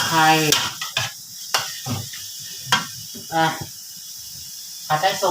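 Pork neck stir-fries with garlic and pepper in a pan, with intermittent close scraping and sizzling bursts between pauses, and a voice speaks at times.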